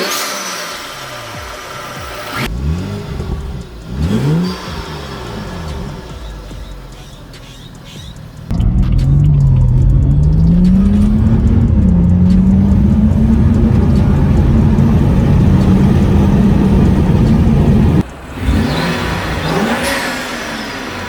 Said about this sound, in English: There's all sorts of intake noises and turbo noises.